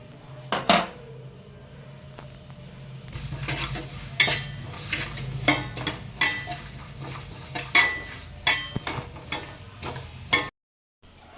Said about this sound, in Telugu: నేనైతే ముందుగా నువ్వులు అయితే వేయించుకుంటానండి